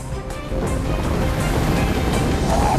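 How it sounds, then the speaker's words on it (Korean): Storm waves surge and crash around a cod fishing boat tossed on rough winter seas, a steady, loud roar of surf and wind buffeting close by with no break. "대구잡이 어선은 파도에 휩싸여 이리저리 요동친다"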